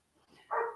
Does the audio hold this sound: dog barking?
yes